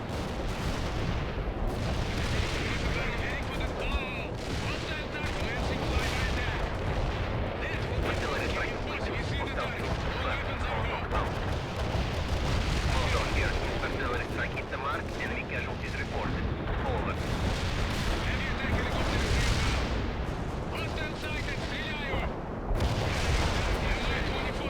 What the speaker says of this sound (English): Failed to destroy that artillery, and now they are wreaking havoc to our rear.